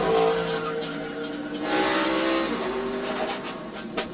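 NASCAR stock cars wrecking at Daytona during pack racing, tires squealing and skidding in long shrieking tones over roaring engines, loud and close with a sharp knock near the end.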